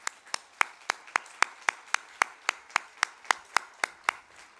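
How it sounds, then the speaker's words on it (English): Applause at a graduation ceremony heard as single, evenly spaced hand claps, about seventeen sharp strikes in a steady rhythm, close and fairly quiet, with no voices. "Let's give them another round of applause."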